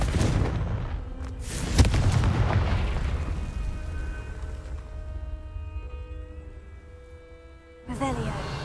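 A Confringo fire spell in Hogwarts Legacy explodes with a sharp blast near the start, followed by a fading rumble and lingering tonal hum, then a second burst near the end.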